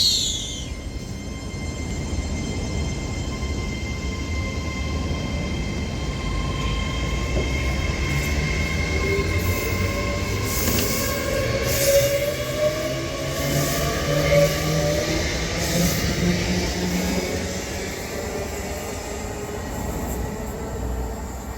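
Avanti West Coast Class 807 electric train pulling out of Runcorn station, a steady hum and wheel noise building gradually as it gathers speed, with no voices.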